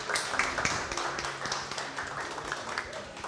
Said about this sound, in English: Round of applause for RHYS.